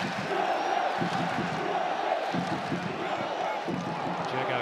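Adelaide United supporters in a capacity crowd at Coopers Stadium roar during the FFA Cup final, a sustained, distant wall of cheering that swells with surges of noise, with a commentator's voice faintly underneath.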